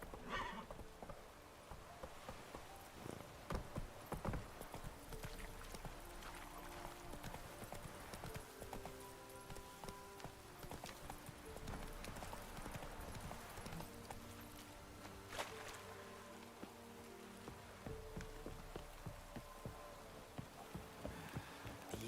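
A horse gallops in The Witcher 3: Wild Hunt, rhythmic hoof clip-clops drumming steadily over ground, with occasional neighs and whinnies and game ambience, moderately loud throughout.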